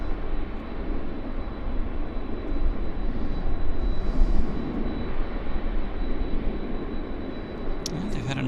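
An airliner arriving from Narita at Vancouver Airport produces a steady, continuous engine roar, broad and moderately loud, with a faint high whine above it and a brief clatter near the end.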